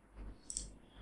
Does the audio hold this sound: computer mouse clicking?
yes